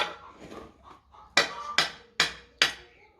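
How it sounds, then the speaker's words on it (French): Four sharp, evenly spaced taps of a small mallet on a moped engine part while a Booster 70 mk2 casing is being taken apart, each strike ringing briefly after quieter handling noises at the start. "Un petit marteau, le mieux c'est un petit maillet"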